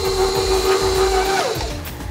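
A stand mixer beats sugar and gelatin mix at medium speed for a cherry chip cake, giving a steady close motor whine that dips in pitch near the end.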